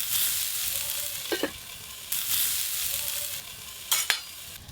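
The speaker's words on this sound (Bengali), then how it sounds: "এবার ধুয়ে রাখা ব্রকলিগুলো দিয়ে দেব।" Washed broccoli sizzles steadily in a hot frying pan, a constant hiss punctuated by a few clattering stirs and scrapes, close and moderately loud with no talking.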